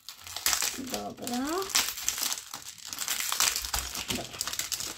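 Plastic packaging from a Lego Star Wars magazine crinkles and rustles up close as it is opened, with someone speaking briefly over the crumpling.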